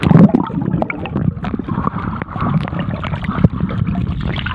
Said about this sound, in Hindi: एक बार पानी के अंदर भी तैरने की कोशिश करेंगे